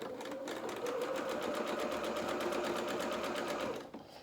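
A sewing machine runs steadily, stitching a zigzag seam along the edge of a doll's pinafore fabric, a fast even hum of needle strokes for about four seconds before it stops.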